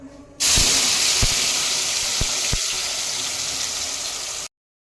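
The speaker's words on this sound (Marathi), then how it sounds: "आपण मसाला पूर्ण तेल सुटूपर्यंत तळून घेणार आहे।" Ground masala fries in oil for mutton curry, giving a loud, steady sizzling hiss that starts suddenly, carries a few soft knocks of stirring, and then cuts off sharply.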